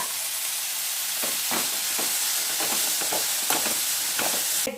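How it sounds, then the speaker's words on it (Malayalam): Onion and garlic frying in a pan while being stirred, a steady sizzling hiss with a series of soft scraping strokes spaced through it, close and fairly even, with no talk. "നമ്മൾ ഉള്ളി വെളുത്തുള്ളി ഒക്കെ ഇട്ടല്ലോ അതിൻ്റെ പച്ചമണം പോകുന്ന വരെ നമ്മളൊന്ന് ഇളക്കിക്കൊണ്ടിരിക്കണം"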